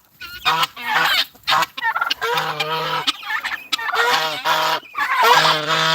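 Geese honk and gobble loudly in repeated overlapping bursts while being thrown corn on a homestead, the calls close and continuous with brief pauses.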